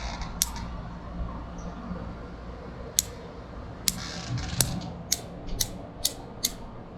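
Crisp scissor snips trimming a needle juniper, scattered at first and then quicker in a steady run, over a soft background hiss.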